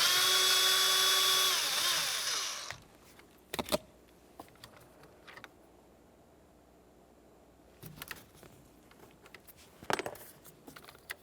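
A power tool whirs loudly for about two seconds while loosening an 8mm mounting bolt on a 1994-2002 Dodge Ram 2500, followed by quiet, sparse metallic clicks and taps of tool handling.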